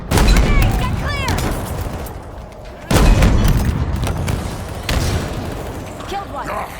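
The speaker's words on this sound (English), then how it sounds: "Taking fire! Grenade, get clear!" Halo Infinite combat: booming grenade explosions and bursts of gunfire in a continuous dense battle mix, with strong low-end thumps near the start, around three seconds and near five seconds, under game dialogue.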